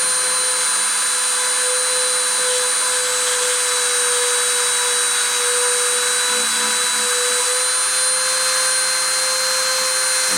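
A CNC machine spindle runs at speed, a loud, steady high-pitched whine with strong constant tonal harmonics, continuous and close with no talk.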